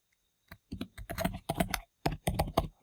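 Java code is typed on a computer keyboard in short, close bursts of crisp keystrokes, with a brief pause before the final flurry.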